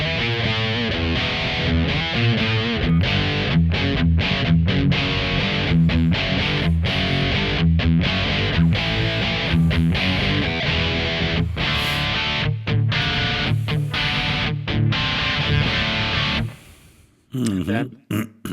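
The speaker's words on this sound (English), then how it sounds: "So you come close to these metal tones." A Kemper Profiler amp produces a distorted metal guitar tone, chugging palm-muted riffs with sharp stops and bursts, loud and dense, ending with a few scattered notes.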